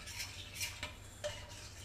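Flour and butter stirred in a pan, a few soft scrapes and light clinks of a utensil close by over a faint steady background hum.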